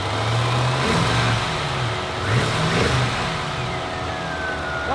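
A car engine close by revs up and down in repeated rises, a throaty roar swelling and falling over a steady running drone.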